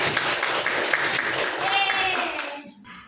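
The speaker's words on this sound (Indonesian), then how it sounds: "Kasih tepuk tangan buat kalian" A burst of clapping from a classroom of students, brisk and scattered, fading out at the end, with a teacher's voice talking over it.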